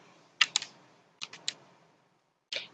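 A few sharp computer mouse clicks while filing a drone filming permit request online: a quick pair, a pause, another pair, then a final click, close and quiet with no talking.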